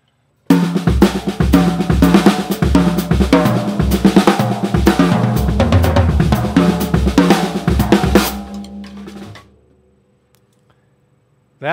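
A drum kit plays a steady linear groove improvised around a right-left kick pattern, with alternating kicks and crisp cymbal hits, loud and close, then stops and rings out.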